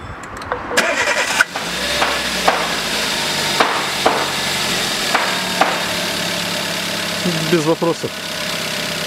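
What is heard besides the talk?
Chevrolet Aveo 2009 engine starting and idling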